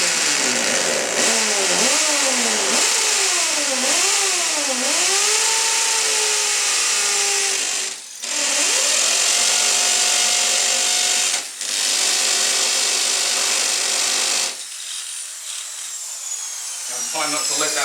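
A small bit drilling into a solid wall, braced against it, whines loudly and steadily with pitch swoops as pressure changes, two brief pauses along the way, then trailing off near the end.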